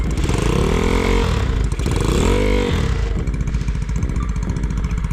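A Yamaha Mio scooter set up in sporty enduro style starts up and revs hard, loud and close, with rising and falling throttle blips settling into a rattly idle.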